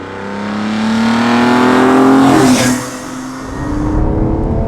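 A BMW E46 M3 CSL with carbon airbox revs hard nearby, a loud rising engine howl that peaks, drops off sharply, then settles into a steady lower drone with no talk.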